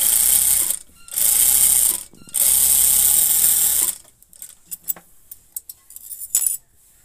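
A household sewing machine with an 18 needle whirs loudly in several bursts while stitching a nakshi kantha quilt, separated by short pauses and followed by clicks and handling noises.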